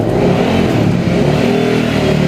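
Close, loud revving from a 2016 Suzuki SV650 twin through an aftermarket Termignoni exhaust, the engine note rising and falling continuously with a gruff, rapid pulse and no talk.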